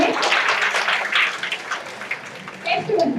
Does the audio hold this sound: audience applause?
yes